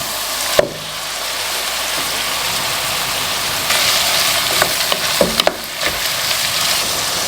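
Chicken livers and vegetables fry in a pan for Tuscan Christmas crostini, a steady loud sizzle with sharp spoon clanks and stirring scrapes scattered through it.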